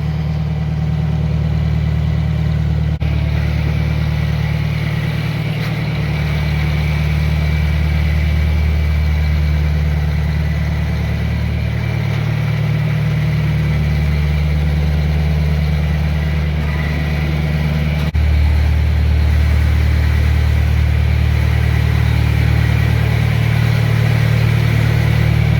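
A John Deere tractor engine runs steadily at a low, heavy idle while being pushed toward a shop, with a brief shift in tone partway through and no talk.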